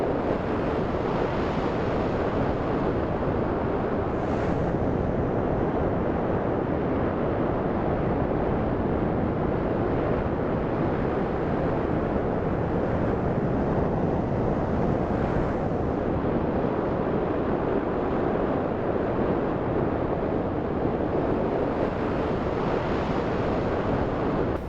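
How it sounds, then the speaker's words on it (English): Strong storm wind roars steadily outside a van in a winter blizzard, a dense unbroken rush with gusts swelling and easing, loud and close throughout. "I'm a little bit tired of the wind now."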